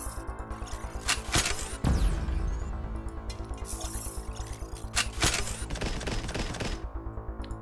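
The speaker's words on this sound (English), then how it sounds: "And he's just been hitting me with a heat cannon." Heat cannon fire in the Mainframe Defenders video game comes as a dense, roaring barrage of crackling blasts layered over droning game music, with a sharper burst near the middle and no talking.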